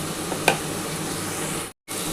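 Cauliflower and prawns drop into oily, well-fried spice paste, setting off a steady, close sizzle with a small clatter early on and a brief break near the end.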